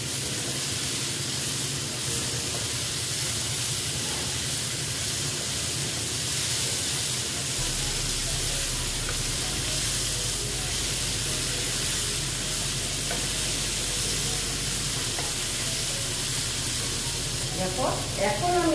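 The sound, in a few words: stir-frying potato and okra in a pan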